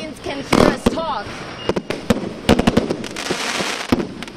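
Loud, scattered firecracker and firework bangs on Tibetan New Year's Eve, sharp cracks arriving in uneven bursts, with people talking and a whistling or squealing tone mixed in among the explosions.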